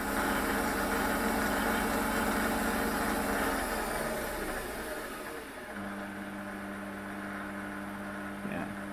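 A Warco WM 180 metal lathe spinning flat out gives a quiet, steady motor hum and whine with a faint whir. The tone shifts and settles partway through, and a brief knock comes near the end.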